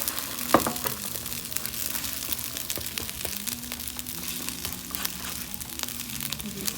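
Eggs frying in a very hot pan for chicken stir-fried rice, a loud continuous sizzle broken by scraping and clicking stirring strokes close up.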